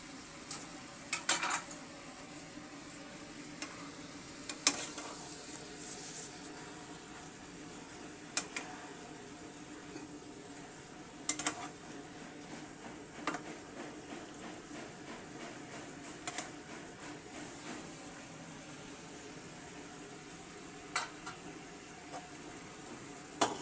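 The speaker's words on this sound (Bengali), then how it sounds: "এবার সবজিটাকে আমি আবারও কষিয়ে নিব।" Ridge gourd fries in a pan with a low, continuous sizzle, while a spatula scrapes and clinks against the metal in scattered, sharp knocks, close by and without speech.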